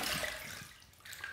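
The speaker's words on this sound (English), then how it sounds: "Let's rinse." Razor rinsed under running water after a shave with shaving soap, a close splashing gush that eases midway and swells again near the end, no talk.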